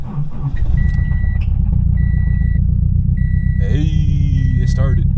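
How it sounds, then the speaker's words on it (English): A car engine rumbles steadily after starting, loud and close, with beeping chimes and a rising tone layered over the idle and voices talking nearby. "Let us see if the car will start."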